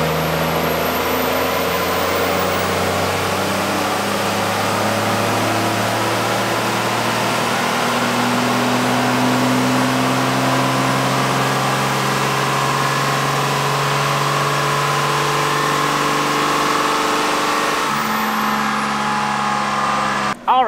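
A 24V Cummins diesel with PDD tunes runs hard on a dyno, a loud, sustained engine roar whose pitch climbs steadily over about eighteen seconds, then drops off, with no talking.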